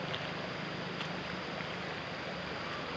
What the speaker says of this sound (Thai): โอ้ยามฝนน้ำไหลคักเนาะ